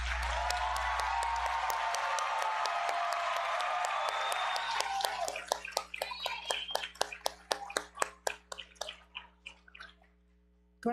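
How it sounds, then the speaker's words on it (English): Graduation-ceremony applause at a William Carey University commencement: a broad wash of crowd clapping that thins after about five seconds into scattered individual claps fading over a steady hum, with faint voices in the room. "Let's give one more round of applause to this group of graduates."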